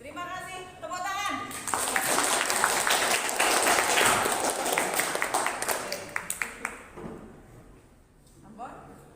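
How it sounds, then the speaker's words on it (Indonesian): A classroom crowd claps in a burst of applause lasting several seconds, fading toward the end, with a few scattered voices in the room. "Tepuk tangan."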